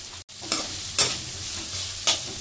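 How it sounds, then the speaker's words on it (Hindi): Onions frying in a pan with crushed garlic, ginger and chili paste: a constant close sizzle broken by a few brisk scraping stirs, one brief drop-out near the start. "तो गाइस, अब मैं प्याज डाल रहा हूँ इसमें."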